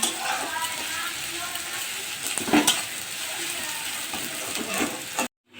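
Ginger-garlic spice paste fries in a pan, sizzling steadily while a spatula scrapes and stirs it in rough rhythmic strokes, ending with an abrupt cutoff into silence.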